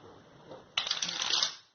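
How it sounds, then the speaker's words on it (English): Tarot cards being shuffled by hand, a soft rustle that turns into a sudden, louder riffle of cards lasting about a second, close up and on its own. "you watch me shuffle, you heard me shuffle"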